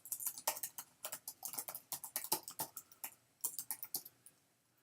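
Fast, steady typing on a computer keyboard, with dense clicking keystrokes close up and alone, no talk.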